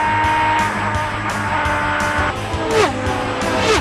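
High-performance race cars roar around the Indianapolis Motor Speedway during the 200-lap, 33-car race. Loud, close engine howls overlap and pitch sweeps rise and fall sharply as cars scream past in quick succession.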